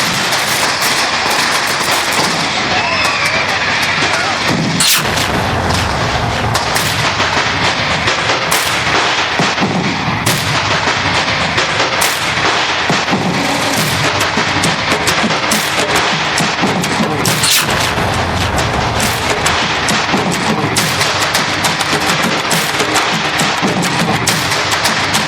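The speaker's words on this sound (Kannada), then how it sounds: "ಈ ಮಾಲೆ ಪಟಾಕಿ ಬೊರ್ಚಿ ಬೊರ್ಚಿ ಬೊರ್ಚಿ ಈ ಬಾಲೆ ಪಟಾಕಿ ಪಟ ಪಟ ಪಟಾಕಿ" Firecrackers burst in rapid, dense volleys of sharp cracks and pops during a Tulu comedy stage drama, the loud crackle running continuously without pause.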